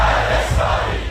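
A large crowd chants political slogans against America and Israel, a loud, dense roar of massed voices that stays steady throughout, with no single speaker standing out.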